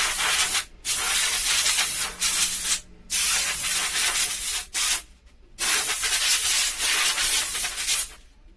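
Loud bursts of compressed air blasting over a freshly sanded bicycle seat, several long hissing jets separated by short silent gaps, close up.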